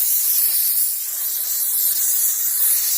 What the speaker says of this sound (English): make sure you're steaming those areas out as well